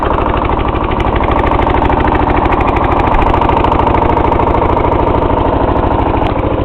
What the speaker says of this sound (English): Right now it's on its lowest idle, and this is what it is.